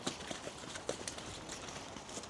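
Young racehorses canter up the gallop at a training stable, their hoofbeats a faint, rhythmic clip-clop drumming on the turf from some distance.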